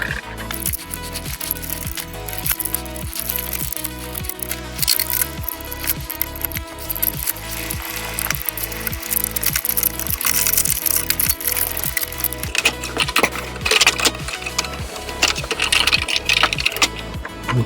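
A driver turning optical screws into a Star Trek pinball machine makes a loud, rapid, evenly repeating mechanical ratchet that runs continuously up close.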